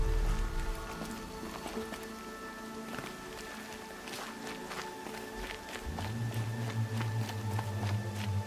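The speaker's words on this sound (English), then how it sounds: "Rain's not so bad." Rain falling in Horizon Zero Dawn, a steady wash of patter with scattered louder drops and a low rumbling tone that swells near the end, with no voices.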